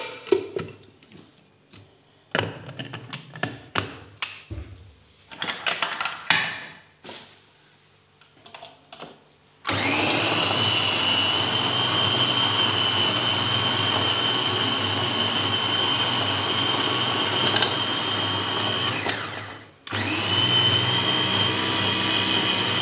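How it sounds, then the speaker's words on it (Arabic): Electric food chopper grinding green pepper and onion, preceded by clicks and handling knocks, then a loud steady whirring motor run of about ten seconds, a brief stop, and a short restart. "غادي نطحنهم البنات في هاشوار"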